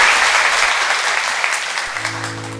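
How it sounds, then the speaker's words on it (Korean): A church congregation at a Sunday worship service claps loudly together, a thick wash of applause that gradually thins and fades, while low sustained organ or keyboard chords enter underneath near the end. "우리 박수해 주시기 바랍니다."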